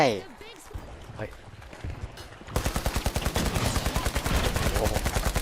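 Rapid video-game gunfire from a Thai game stream bursts in halfway through, a dense regular volley of shots running steadily to the end after a quieter stretch with a voice talking.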